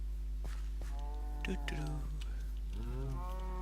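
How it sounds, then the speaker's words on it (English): Cows in a survival video game moo several times in long, low, drawn-out calls, with someone talking over them. "How are you doing, cows?"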